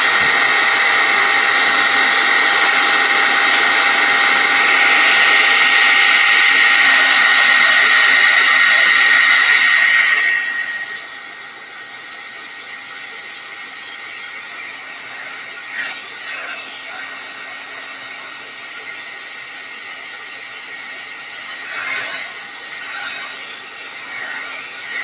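A hair dryer blows steadily and loudly on glaze over a ceramic piece, then cuts off after about ten seconds, leaving a quiet room with faint handling noises.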